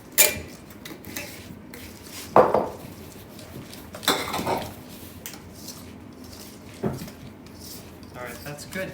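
Chocolate chips being mixed into brownie batter in a bowl, with scattered clinks and scrapes of a utensil against the bowl while people talk.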